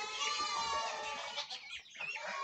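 Game hens cluck and chatter inside a chicken room, a close, continuous burst of overlapping calls with no talk.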